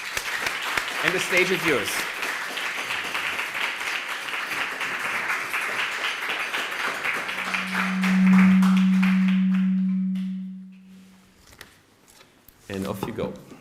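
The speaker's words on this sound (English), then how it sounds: "I would like a warm applause" An audience gives a warm round of applause to welcome a speaker to the stage; clapping fills the first half, a person speaks briefly, and a low steady hum follows as the applause fades.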